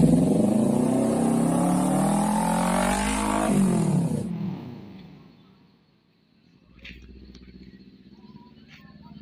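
Kawasaki Ninja 250 fitted with an SC Project exhaust revs hard and loud up close, pitch climbing through several blips before cutting off, then idling faintly with a few light clicks.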